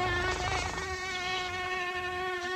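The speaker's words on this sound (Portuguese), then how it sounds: "Olha que mosquito! Ah, mosquitinho!" A steady, high-pitched whine of a mosquito buzzing close by, continuous and fairly loud, with a faint low rumble underneath.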